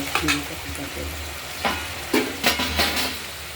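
Shrimp sizzling in a pan with mustard seeds, a continuous frying hiss broken by several scraping stirs of a utensil, close and moderately loud.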